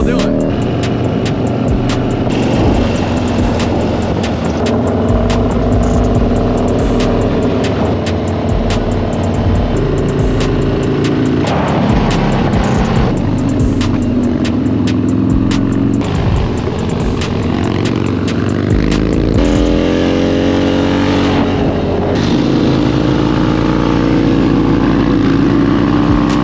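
Harley-Davidson motorcycle doing a burnout, its engine roaring loud and close with continuous revving and shifting pitch, sustained throughout, while voices talk underneath.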